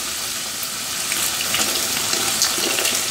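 Water poured into masala in a cooking pan while making hilsa fish curry, giving a steady hissing, sizzling wash that grows slightly louder and has no talking over it.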